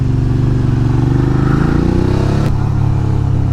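A Suzuki V-Strom 650 motorcycle carrying a pillion hums steadily near the microphone, its engine note rising as it pulls, then shifting pitch partway through over wind rush.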